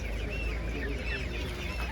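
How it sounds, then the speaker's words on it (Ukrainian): Master Gray chickens at a market cluck and chatter close by, several overlapping birds making short busy calls over a low background rumble. "Мастергай дуже гарна курка."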